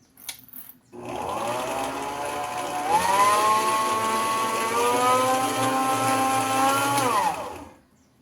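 An electric hand mixer whirs loudly and steadily while beating egg whites with sugar, its motor pitch rising and dipping slightly before winding down at the end.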